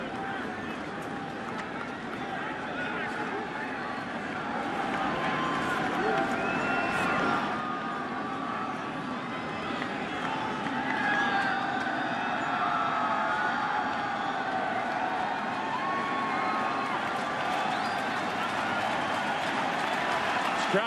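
A large baseball stadium crowd at NLCS Game 1 in October 2012 keeps up a sustained roar of cheering and clapping, a steady dense wash of noise for twenty seconds with a broadcast commentator talking over it.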